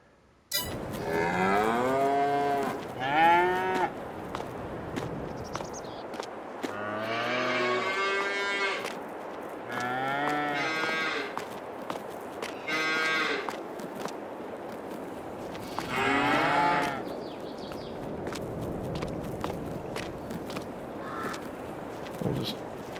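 Cattle low and moo repeatedly in a barn on a farm in Farming Simulator 22, several long harmonic calls spaced apart, fairly close and clear with faint background ambience.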